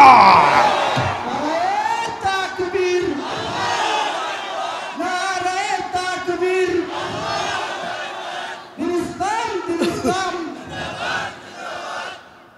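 A large crowd at a religious waz gathering in Mymensingh chants the slogan Allahu Akbar in loud, surging unison waves, several rising shouted phrases repeating over about twelve seconds.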